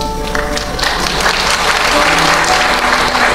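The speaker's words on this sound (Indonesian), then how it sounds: "Tepuk tangan." A church congregation gathered for worship breaks into applause, a loud sustained roar of many hands clapping that swells over a few seconds, with faint speech at the start.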